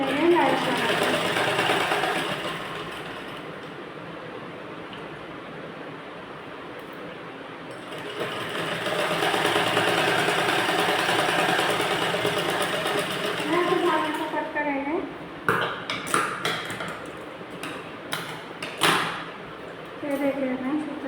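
A sewing machine stitches lace onto a blouse, whirring steadily and close in two long runs, then falls to scattered clicks and fabric handling.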